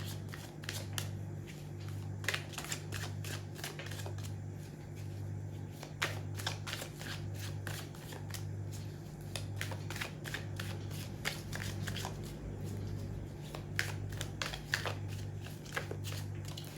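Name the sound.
shuffling tarot cards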